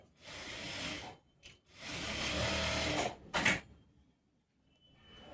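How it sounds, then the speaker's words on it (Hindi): Sewing machine stitching a second line over an existing seam on palazzo trousers, two long runs of close mechanical whirring broken by pauses and a short burst, with no talking. "अब जो सिलाई लगाई है इसी सिलाई के ऊपर सिलाई लगा दें।"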